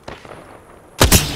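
Video game gunfire erupts as a loud, close burst of two sharp reports near the end, after a quieter stretch of faint background game noise.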